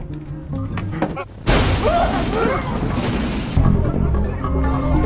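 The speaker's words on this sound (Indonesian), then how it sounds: "meledakkan mobil petugas yang sedang di parkiran" A parked security officer's car blows up in an action film scene, a sudden loud broadband blast that holds as a roaring rumble for about two seconds, with another heavy thump following and softer effects before and after.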